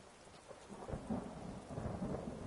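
A thunderstorm in the fantasy game Skyrim, with a low rolling rumble of thunder building under a steady wash of rain, faint and distant throughout with no voices.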